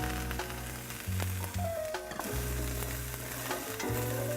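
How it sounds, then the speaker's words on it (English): Vegetables sautéing in olive oil with garlic in a pan, a loud, close, continuous sizzle with scraping and stirring clatter scattered through it. "It's time to get the vegetables in there"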